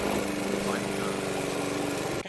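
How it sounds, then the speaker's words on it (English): Lawn mower engine droning steadily nearby, a loud continuous buzzing hum that cuts off abruptly at the end. "goddamn lawnmower noise"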